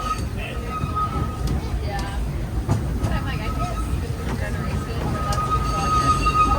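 Disneyland Railroad train rolling along its track through the jungle section of the park, a steady low rumble with a faint high wheel squeal, continuous throughout with soft background chatter.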